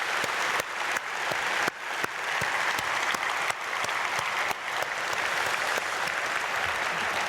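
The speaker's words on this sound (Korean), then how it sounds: "박수로 한번 크게 축복하겠습니다." A church congregation gives sustained, loud applause for the education department's teachers and pastors, with dense clapping that holds steady for several seconds.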